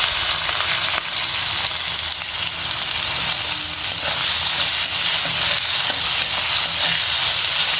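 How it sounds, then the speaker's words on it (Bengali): Onion fries in hot oil tempered with five-spice seeds and dried red chillies, giving a loud, steady, close sizzle that hisses without pause throughout. "ফোড়নে এটা দিয়ে দেবো একটু ভেজে, তারপর পেঁয়াজটা দিয়ে দেবো"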